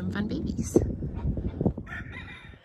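A black Americana rooster on a homestead crows in a farm pen, its call rising over steady nearby talking and fading near the end.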